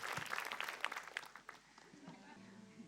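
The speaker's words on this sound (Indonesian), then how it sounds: "Tepuk tangan dulu dong untuk Ustaz Zaki" Studio audience at an Islamic religious talk show applauding to welcome a preacher, a burst of clapping that fades after about a second and a half, leaving a quieter room with faint voices.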